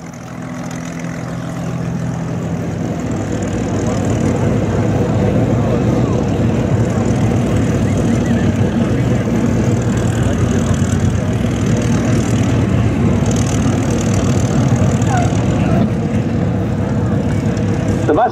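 Propeller engine of a P-51 Mustang warbird taxiing at an air show, a steady loud droning rumble that swells in the first few seconds and then holds constant, with faint crowd or announcer voices underneath.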